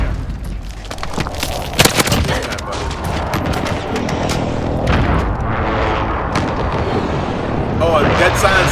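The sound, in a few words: allied precision airstrike explosions in Call of Duty video game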